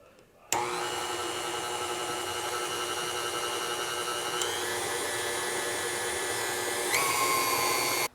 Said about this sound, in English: Now we can just add our dry ingredients all at once and beat those in. It's always a good idea to start it on low